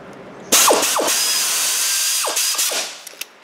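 A worn impact wrench torquing front brake caliper bolts on a Ford Escape gives a loud, sustained whine of nearly three seconds, marked by sharp ratcheting hammer bursts near the start and end before it winds down with a few clicks.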